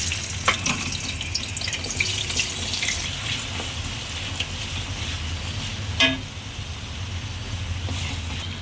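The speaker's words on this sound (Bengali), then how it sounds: "এবার আমি এই আলুর টুকরোগুলো আস্তে আস্তে এই কড়াইয়ের মধ্যে ছেড়ে দিচ্ছি।" Potato pieces frying in hot mustard and refined oil in a kadai give a steady close sizzle with scattered crackles and a brief scraping clatter near the end, with no voices.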